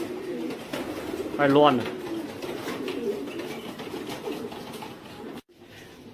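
Young racing pigeons coo all around a crowded loft, a soft continuous burbling under a voice that briefly rises over it, then drops off abruptly near the end.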